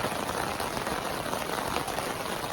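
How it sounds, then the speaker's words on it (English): Steady rain pattering on a tent during a Continental Divide Trail thru-hike near Macks Inn, Idaho, a continuous dense hiss with fine drumming that stays even throughout, with no voices. "Oh, hey, it's raining again."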